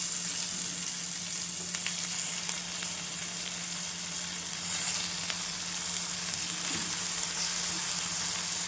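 Onion and chili fry with salt in a pan, giving a loud, continuous sizzle that holds steady throughout, with a few faint clicks of stirring.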